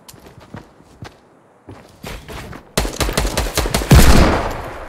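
Gunfire in the Fortnite battle royale game, starting with a few sparse sharp shots and building into loud rapid bursts of automatic fire, with a heavy sustained volley near the end.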